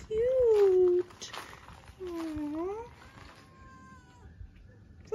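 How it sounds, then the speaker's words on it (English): A tuxedo cat meows outdoors, two long drawn-out wavering cries and a brief start of a third, close and fairly loud, with a person's voice softly heard between them. "Oh, there's a kitty."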